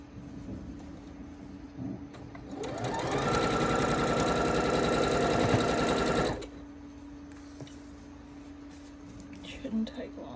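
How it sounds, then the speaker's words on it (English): A sewing machine stitches nine-patch quilt blocks together for an Irish chain quilt in one steady, fast, close run of a few seconds, with quieter room sound before and after. "Let me sew these together."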